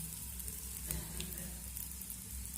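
Onion and garlic fry with turmeric powder and chaat masala in a pan over low heat for a mashed potato and flat bean dish, giving a steady soft sizzle throughout with faint stirring.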